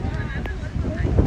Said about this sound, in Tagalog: Sobrang ang lakas ng hangin